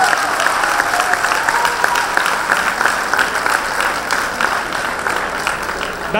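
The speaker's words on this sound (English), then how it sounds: "May I have a big applause," Sustained audience applause at a Mahavir Jayanti celebration hall event, welcoming an Indian consul general: a continuous, even roar of many hands clapping that holds steady throughout.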